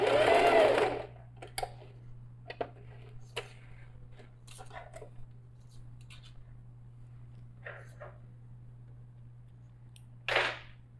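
A sewing machine stitches a fabric pouch in two short, close whirring bursts, one at the start and one near the end, with sparse clicks and handling noises between them.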